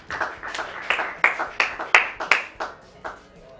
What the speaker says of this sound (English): Please clap for your classmate,